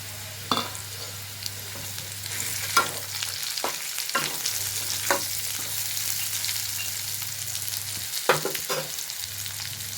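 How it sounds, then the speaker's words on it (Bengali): Peanuts frying in a pan for sabudana pulao, stirred with a utensil: steady sizzle with sharp scraping strokes at irregular intervals, close and moderately loud, no voices. "এবার আমি বাদামগুলো এতে দিয়ে মিশিয়ে নিচ্ছি"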